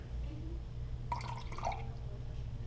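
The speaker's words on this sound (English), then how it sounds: "you pour the vinegar inside the milk." White vinegar is poured into milk, a short run of liquid trickles and drips lasting about a second over a low background hum.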